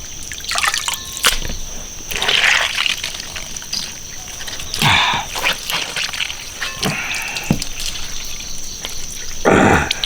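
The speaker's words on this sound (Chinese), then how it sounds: "血水洗干净，捞出来把水分挤干" Washed raw beef is squeezed by hand to press out the water, giving wet drips and splashy trickles in several short bursts, close by, with no talk.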